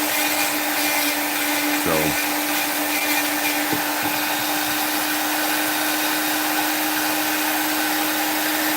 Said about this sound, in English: the Dremel without the flex shaft is chunky, and that's what I had